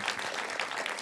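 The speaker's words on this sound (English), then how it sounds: "You guys, give yourselves a round of applause" Graduates at a graduation ceremony applaud themselves, a brief, fairly faint wash of many hands clapping at once, steady and without talk.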